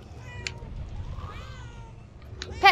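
A cat in the video game Murdered: Soul Suspect gives a drawn-out, wavering meow over a low game backdrop, with short sharp sounds at the start and end.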